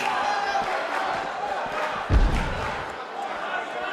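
Arena crowd noise from a sold-out wrestling event in WWE 2K19, a steady roar of cheering spectators throughout with a brief heavy thud near the middle.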